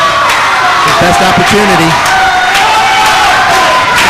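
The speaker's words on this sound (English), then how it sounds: "The crowd exhorting Jackal on." A loud wrestling crowd at a Pride For St. Peters tag-team match cheers and yells continuously, urging on Jackal, with someone commentator talking over the steady roar.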